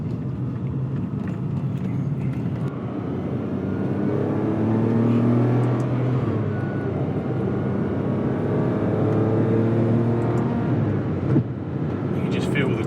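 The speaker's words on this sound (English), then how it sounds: "Without me doing anything, it's blipping the throttle for you." Engine of a 2003 Ferrari 575 Maranello heard from inside while driving, a steady loud rumble with rising and falling rev tones as the gearbox blips the throttle on its own, a voice talking over it.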